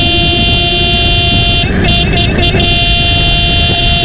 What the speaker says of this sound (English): I installed hell horn. I find it really loud but has to be installed with the relay.